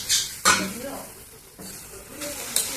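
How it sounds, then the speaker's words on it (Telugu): Onions and tomatoes fry and sizzle in a pan for an egg and drumstick curry, with several loud scraping stirs of a utensil against the pan between stretches of steady hiss, close up. "మధ్య మధ్యలో కలుపుతూ ఉండాలా, లేదంటేనా అడవంటుతాయి."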